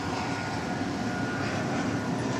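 A two-year-old Boeing 747-8 jet airliner, flight 565 bound for Louisville, roars as a broad, steady engine rumble at DFW Airport during evening plane spotting, loud and continuous without speech.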